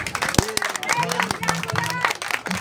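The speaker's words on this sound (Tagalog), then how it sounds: "Palakpak muna." Crowd clapping at a church pastors' gathering, a rapid steady stream of claps with voices and chatter threaded throughout.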